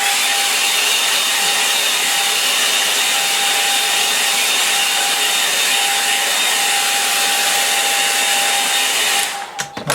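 A hair dryer blowing steadily on a line-and-wash watercolour painting, a loud, constant airy roar with a thin whine running throughout, cutting off abruptly at the very end.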